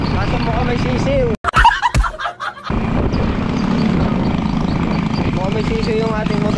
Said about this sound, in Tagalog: May tumutunog na kasi siguro kalawang bearing sa ilalim.